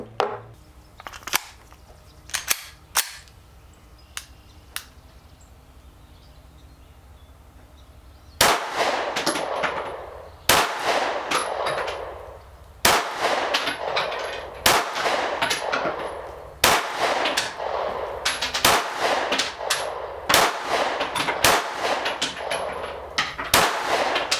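Taurus G3 full-size pistol fired repeatedly outdoors. A few sharp shots ring out, then after a pause a steady string of loud cracks follows at a quick, even pace, each with a brief echo, and no one speaks.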